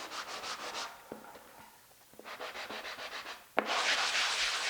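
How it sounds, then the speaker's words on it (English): Sharp inside drywall corner angles are scratched down by hand, producing bursts of close rasping strokes with short pauses and a louder final scrape. "I am gonna just scratch off, because these angles, these sharp angles are just so sharp"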